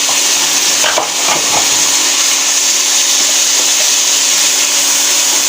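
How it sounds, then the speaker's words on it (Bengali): Ginger, garlic and cumin paste fry loudly in a hot pan over onions already browned, a steady close sizzle with a few stirring scrapes and no talking. "এটা দিয়ে হালকা করে ভেজে নেব।"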